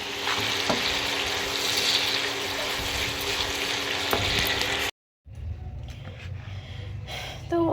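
Fish frying in a home kitchen pan gives a steady, loud sizzle with occasional stirring clicks, cut by a brief silence before a quieter, hissing continuation.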